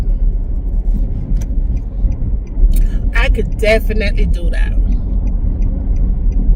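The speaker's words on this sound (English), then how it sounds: "Traffic." Road traffic in Georgia rumbles steadily with a loud, low drone of cars heard from inside a vehicle, while a person talks briefly over it.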